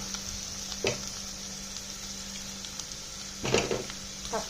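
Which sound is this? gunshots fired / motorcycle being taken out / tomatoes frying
tomatoes frying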